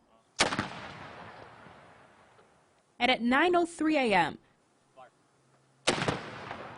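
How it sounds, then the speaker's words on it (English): ROTC students fire a cannon at a September 11 commemoration: two loud booms several seconds apart, each with a long rumbling decay, and a person talking between the blasts. "ROTC students shot off a cannon signifying each plane that struck the World Trade Centers"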